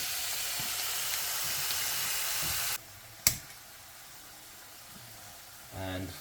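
Thin, slightly frozen bacon frying in a pan: a bright, steady sizzle that cuts off abruptly partway through, followed by a sharp clank and quiet room tone, then a brief hum near the end.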